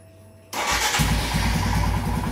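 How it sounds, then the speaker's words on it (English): A Royal Enfield Himalayan motorcycle engine starts after a throttle position sensor adjustment. It catches abruptly and loud at close range, then settles into a steady, thumping idle. "Now let's try and start the bike"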